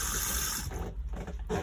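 A 12-volt mixer tap in a Burstner motorhome runs with a steady hiss of water broken by sputtering bursts of air, nearby and fairly loud, with no talk over it.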